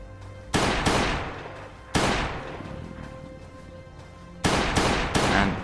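Pistol shots in the survival game Last Day on Earth: Survival: several sharp, loud shots, some in quick pairs, each with a decaying tail, spaced over a few seconds with no talking.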